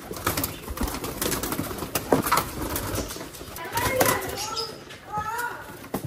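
Pigeons coo softly in a close, busy group in a box, with rustling and occasional wing movement amid steady background noise and faint voices.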